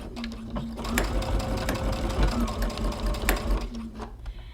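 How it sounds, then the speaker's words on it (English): A sewing machine stitches through a vinyl zipper pouch, back stitching with a steady rapid mechanical chatter and a hum, close and continuous with no talking. "we're gonna back stitch on both sides"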